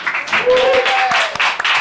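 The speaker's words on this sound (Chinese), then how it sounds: "让我们掌声欢迎刚刚，掌声鼓励" A theatre audience claps to welcome a new stand-up comedian to the stage, a short burst of applause that rises under a host's voice.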